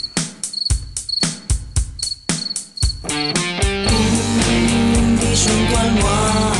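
Cricket chirping in a radio programme jingle: several short, regular cricket trills in the opening seconds, then a loud musical passage takes over and covers them.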